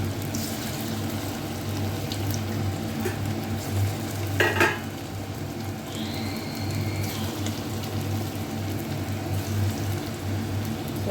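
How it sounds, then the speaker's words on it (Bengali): Puffed rice and potato pakoras frying in hot oil, a continuous moderate sizzle with occasional utensil clinks and a sharp clatter midway, close and without talk. "সেগুলো আমি একটা একটা করে ছেড়ে দিচ্ছি তেলের মধ্যে"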